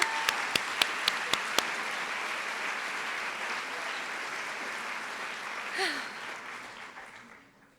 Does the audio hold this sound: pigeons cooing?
no